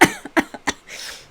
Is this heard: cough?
yes